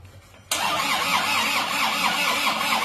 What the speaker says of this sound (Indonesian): Ayo, starter yuk.